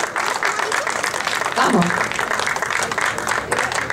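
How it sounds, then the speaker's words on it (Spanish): A live audience claps and cheers steadily at a show as a performer is introduced, dense and sustained, with a voice shouting over the crowd. "Un aplauso para él"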